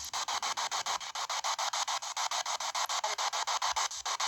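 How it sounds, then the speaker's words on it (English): A spirit box radio sweep: rapid, steady pulsing static sweeps across a wide hiss band, chopping about six times a second, loud and continuous with no voices. "This is called a spirit box."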